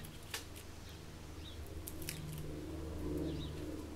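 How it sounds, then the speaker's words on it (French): Faint birds chirp intermittently in the distance over a low steady hum, with a few sharp clicks scattered through the quiet outdoor background. "Le chant des oiseaux derrière."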